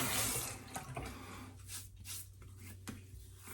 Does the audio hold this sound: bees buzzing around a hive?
no